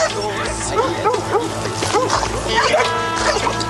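Attack dogs guarding a small settlement outpost bark and yip repeatedly in quick, uneven bursts at moderate distance, over a steady background with faint voices.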